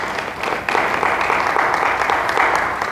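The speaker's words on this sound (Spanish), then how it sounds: "Dale fuerte las palmas a nuestro Señor Jesucristo" Congregation applauding in a church after a call to clap for Jesus Christ, a steady dense wash of hand claps lasting throughout with a faint voice underneath.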